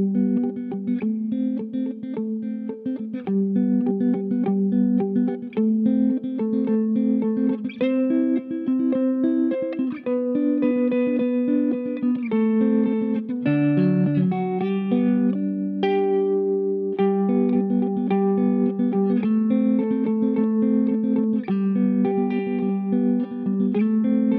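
A Squier Paranormal Jazzmaster XII twelve-string electric guitar plays a continuous melodic passage of chiming, layered chords and single notes through effects, loud and close, with no talking.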